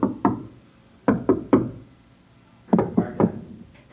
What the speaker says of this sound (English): Just tap your wall to locate the studs.